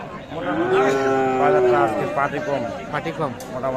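Cattle moo loudly and close by, one long low call followed by more lowing, with people chattering in the background.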